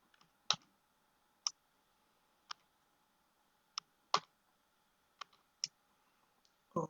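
Sparse, separate clicks of a computer keyboard as a captcha is typed, about eight keystrokes at uneven intervals, close but faint in a quiet room.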